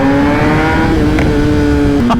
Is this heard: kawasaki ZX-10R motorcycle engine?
yes